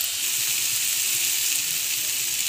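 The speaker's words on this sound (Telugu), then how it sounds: "ఇదంతా కొంచెం పచ్చివాసన అయ్యే వరకు రోస్ట్ చేసుకోవాలి ఇట్లా డ్రై రోస్ట్" A steady soft hiss and crackle rises from spice masala dry roasting in a pan for stuffed brinjal curry, continuous and close, with no talking.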